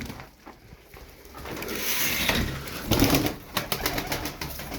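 Iraqi feather-footed play pigeons flap their wings in quick, ruffling bursts that swell toward the middle, with faint bird sounds around them and no talking.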